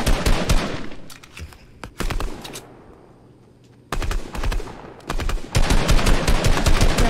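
Automatic AR rifle fire in a video game, loud repeated bursts of rapid shots with short pauses between volleys, no talking.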